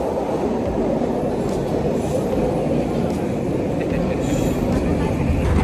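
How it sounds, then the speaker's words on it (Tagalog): Vancouver SkyTrain rolling into Burrard Station, a loud, steady, low rumble of wheels and cars filling the platform with faint squeals, while a voice talks over it. "Ayan, naantay natin yung train natin. Ayan na, dumadagundong na."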